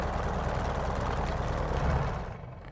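Grumman F4F-4 Wildcat radial engine shutting down after the magnetos are switched off: a steady, loud, broadband engine drone holds, then winds down and fades toward quiet near the end.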